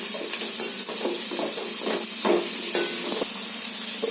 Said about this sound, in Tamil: அதையும் ஃபுல்லாக நல்லா வதக்கிக்கோங்க.